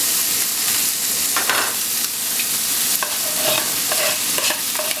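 Fresh spinach hits a hot pan with cumin and salt, sizzling loudly while being stirred and tossed throughout, with no one speaking.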